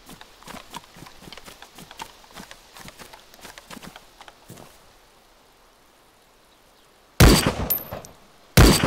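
DayZ survival game gunfire: a run of quieter rhythmic taps, then near silence, followed by two loud, abrupt gunshot blasts close together at the end.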